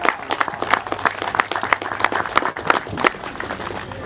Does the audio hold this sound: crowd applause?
yes